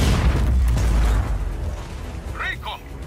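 A brief explosion booms loudly at the opening during a Just Cause 4 armored-train mission, fading into rumble while voices talk over the tail.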